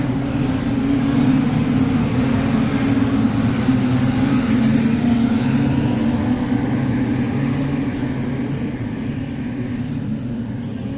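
A field of production sedan race cars roars off at the start of a Queensland title race on the Kingaroy clay speedway, producing a dense, sustained engine drone that gradually eases slightly as the pack moves away.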